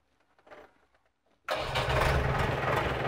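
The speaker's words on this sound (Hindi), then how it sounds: "And now we have fired up the JCB and you can listen the engine noise in the cabin because there is no such isolation." Inside the cabin of a JCB backhoe loader, a few faint clicks come first, then the diesel engine cranks and catches abruptly, settling into a loud, steady idle rumble.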